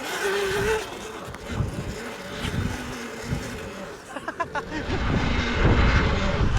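A cheap Tuttio Soleil 01 dirt bike revs through a donut, its engine note rising and falling close by, with brief voices over it.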